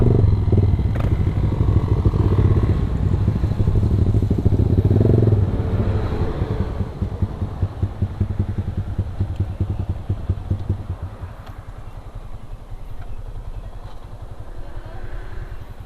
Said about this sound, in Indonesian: Ini ada motor, mau macet-macet.